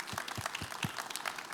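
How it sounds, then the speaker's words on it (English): Audience applause at a pitch event, a short burst of scattered clapping, moderately distant and fairly faint, with a murmur of the crowd underneath. "If we would please give them a round of applause."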